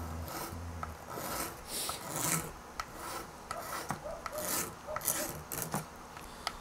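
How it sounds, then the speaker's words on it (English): A scraper works across the wooden body of a custom guitar, giving repeated rasping strokes in an uneven rhythm, close and fairly quiet, with a few sharper ticks between the passes. "You kind of have to figure out which way the grain wants you to go with the scraper, or it'll leave little stutter marks"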